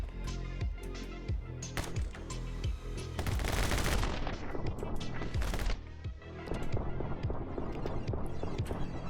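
Rapid bursts of gunfire from My Friend Pedro, sharp shots repeating in quick clusters, densest in a loud stretch mid-clip, layered over game music and effects.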